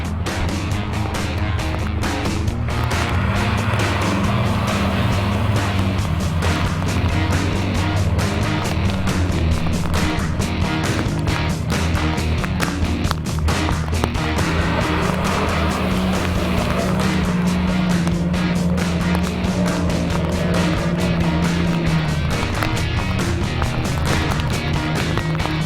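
A 4WD truck pushes forward through deep water on a Tasmanian bush track, its engine droning loudly and steadily with shifting pitch as it labours, with a constant wash of churning noise and no speech.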